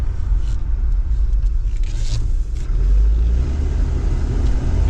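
A used auction van with a fuel-injected inline-six engine pulls hard from inside the cab, a loud, steady low rumble that swells slightly as it accelerates, with no one talking.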